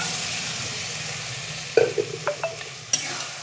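Lentils go into a pan of sizzling fried spice masala for a dal tadka. A constant frying hiss runs throughout, then a few sharp stirring scrapes and clatters of a spoon against the pan break in close and loud.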